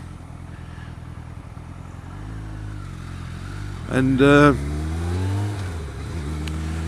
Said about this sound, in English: Nice loads of cars today.